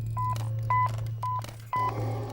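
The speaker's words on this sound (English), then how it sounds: "And this beep controls his working life." Four short electronic beeps from a handheld scanner used by an Amazon warehouse picker, evenly spaced, over a steady low mechanical hum.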